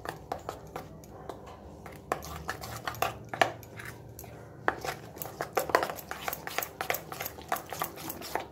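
A spoon or utensil stirs rice flour into carrot batter in a bowl, making irregular close clinks and scrapes against the dish that keep a loose rhythm throughout, with no talking.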